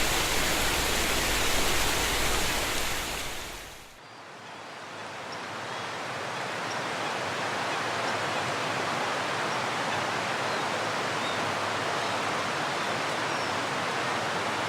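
The River Soar, straightened and dredged to serve as a canal in central Leicester, rushes with a loud, steady broadband wash that dips and shifts briefly before settling into a continuous close flow.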